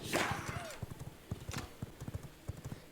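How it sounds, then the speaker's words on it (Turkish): Horse hooves clip-clop in a village in the V Rising video game, a quick, uneven run of soft thuds at moderate distance, with a faint whinny-like sweep near the start. "Gördüğünüz gibi birinin atı var orada."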